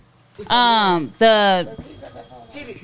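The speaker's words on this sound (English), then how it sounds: "Sheena, baby, you ringing." A mobile phone rings with two loud, close, tonal bursts in quick succession, followed by quieter background noise.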